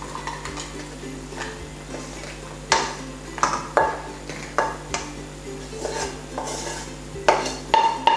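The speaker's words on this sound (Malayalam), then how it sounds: "ഇനി നമുക്കിത് മിക്സിയുടെ ജാറിലേക്ക് ഇട്ട് കൊടുക്കാം" Fried onions and chillies go into a mixer grinder jar, with a series of sharp clinks and knocks of metal against the jar, some ringing briefly, spaced irregularly and growing busier toward the end.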